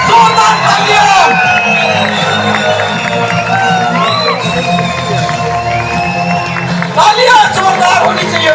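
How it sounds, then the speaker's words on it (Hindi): An audience at a Mi Lifestyle business event erupts in loud, sustained cheering, with whoops and piercing whistles rising above a thick wall of crowd noise that surges again near the end. "जोरदार तालियां।"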